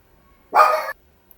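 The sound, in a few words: dog barking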